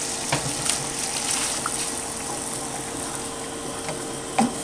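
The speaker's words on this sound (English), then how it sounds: "You can see the water is boiling now. I'm just going to add the fish to it." Porgy fish being added to a pot of boiling water for soup, with a steady bubbling and sizzling wash throughout and a brief splash or clatter near the end.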